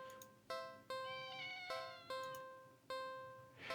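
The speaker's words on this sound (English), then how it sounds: "Meow." A cat in a video game meows repeatedly, a series of clear tonal meows at a fairly even rhythm, about six calls with short gaps, alone without talk.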